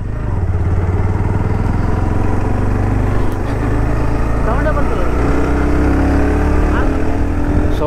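A Bajaj Pulsar NS160 motorcycle engine drones loud and steady while riding through Bengaluru, with a constant low rumble and wind buffeting throughout.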